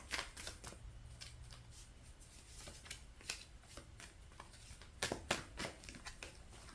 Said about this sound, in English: Give me a minute here to prepare the cards.